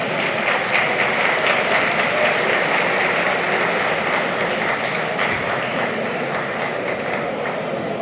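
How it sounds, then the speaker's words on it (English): Dense, loud applause from an audience at a tribute evening in a school gymnasium, steady sustained clapping throughout with no speech. "Please give him a round of applause."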